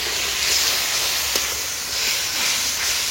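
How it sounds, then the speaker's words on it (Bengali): Water splashed into spice paste with dried chilli powder frying in a kadhai for Bengali-style kadhai paneer, sending up a loud, continuous steamy hiss and sizzle that swells and eases in waves. "এখন অল্প করে জল দেবো যাতে মশলাটা ভালো করে ভাজা হয়"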